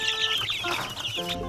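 Young chicks about three weeks old cheep and cluck continuously in a brooder, a busy, close chorus of overlapping high peeps with no talking.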